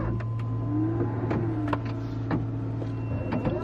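A keyless electric car powers up with a steady low electrical hum and a thin whine, punctuated by scattered clicks and soft mechanical ticks, no voices.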